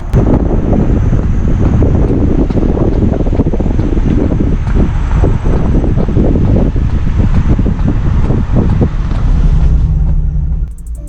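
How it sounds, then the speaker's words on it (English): Steady loud rumbling road noise from a car with a rhythmic low thumping running through it, like a tire rolling slowly, continuous and close, resembling horses walking. "Sounds like horses walking next to the car."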